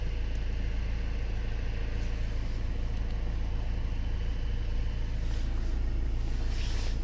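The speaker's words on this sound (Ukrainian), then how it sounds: "Мотор шепче." A Volvo V60 engine idling quietly with a steady low hum, smooth and unchanging, with no one speaking.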